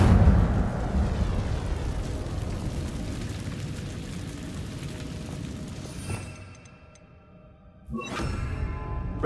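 An Incendio fire spell cast in Hogwarts Legacy, a loud roaring whoosh of flame that fades out, followed by a brief pause and a second sharp burst of fire near the end.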